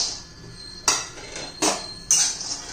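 Peanuts dry-roasting in a pan on medium heat for tilgul poli, with three sharp metallic clanks of a utensil against the pan over a quiet background.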